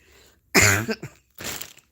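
Two harsh coughs, one sharp burst followed by a shorter second one after a brief pause, close and loud.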